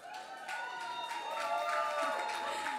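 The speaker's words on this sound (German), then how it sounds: "bitte mal anständig jubeln für die Jessica" Audience at the Miss Kärnten beauty pageant finale in a ballroom cheers and applauds, crowd noise swelling and holding under tonal background music.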